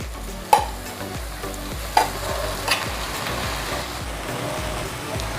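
Cooked toor dal and moong dal stirred together in a pan with a steady sizzle underneath and a few sharp spoon knocks against the pan.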